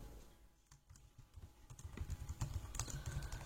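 Computer keyboard typing, close and fairly quiet, starting sparse and then building into a quick, busy run of key clicks.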